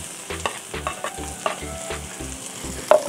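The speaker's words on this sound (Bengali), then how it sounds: "আলুগুলোকে আমি এবার এই মশলার সঙ্গে আরও কিছুক্ষণ কষিয়ে নেব" Fried potatoes being stir-fried in spice masala for a Bengali katla fish curry, a low sizzle under regular scraping strokes of a spoon in a pan, roughly three per second, close and fairly loud.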